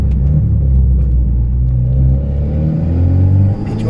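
Modified Alpine A110 sports car, tuned by a performance shop, with its engine rumbling loud and close as it accelerates, rising harmonics climbing steadily before a brief drop near the end.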